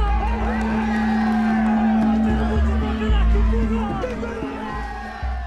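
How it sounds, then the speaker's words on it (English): Crowd of Tibetan protesters shouting slogans calling for the Dalai Lama's return and independence, a dense roar of many voices sustained throughout with a steady low drone and swelling cheers. "Everywhere, the crowds shout the same slogans."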